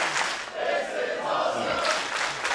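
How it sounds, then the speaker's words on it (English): A wrestling crowd at a WSW tag team championship match chants in unison, a loud, dense roar of many voices rising and falling in rhythmic waves. "Crowd chanting, this is awesome"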